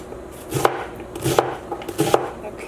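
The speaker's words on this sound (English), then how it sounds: "I just chopped half of my onion" Onion being chopped with a knife on a cutting board in a home kitchen for papas con rajas: three distinct, crisp knife strikes spaced under a second apart, close and moderately loud, with no talking.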